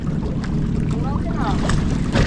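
Motor of a fishing boat out at sea during tanigue fishing, a continuous low drone mixed with wind buffeting the microphone and water noise, with voices talking over it.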